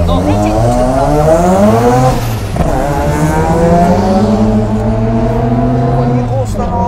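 A car engine revs hard through rising and falling gears as it laps a circuit, FR rear-wheel-drive driving loud and continuous with tire noise, while people talk over it.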